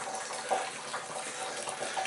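Water from a ram pump pours into a 30-gallon tank, a steady splashing gush like a running tap filling a tub, continuous and close with no talk.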